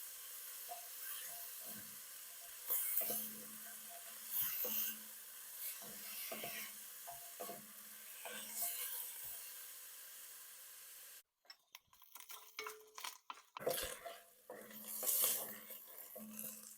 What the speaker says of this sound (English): We're going to cook this down until the bacon starts to get a little bit crispy.